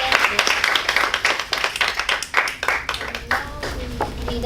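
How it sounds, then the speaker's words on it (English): Clapping from a small club audience after a table topics speaking session, close and uneven with distinct individual hand claps and light voices mixed in. "Give another round of applause to those who."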